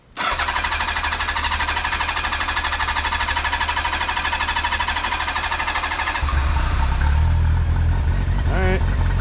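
A choked engine cranks with steady loud chatter for several seconds, then catches and settles into a deep, close idle.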